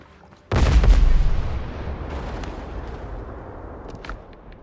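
Gunfire in the video game Windrose: one loud, close booming shot with a long rumbling decay, followed by a couple of fainter distant cracks near the end.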